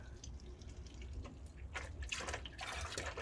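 Hot engine oil trickling and splashing as it drains out of a Mini Countryman 1.6 turbo during an oil change, with gurgling bursts growing louder toward the end, no talking.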